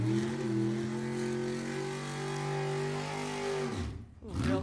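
A drag racing car launching off the line with a wheelie at Sacramento Raceway, a loud sustained engine roar with strong harmonics that suddenly drops away, then a brief burst of noise, with a voice over it.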